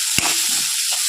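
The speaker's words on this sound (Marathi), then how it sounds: "कांदा टोमॅटो चांगलं परतलं आहे" Onion, tomato and curry leaves sauté in a pan for hotel-style dal, giving a steady sizzle with one brief stirring scrape near the start.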